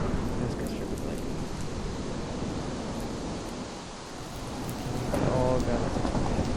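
In a tornado survival video game, a thunderstorm rolls on with loud, continuous rumbling thunder over heavy, steady rain, swelling again near the end.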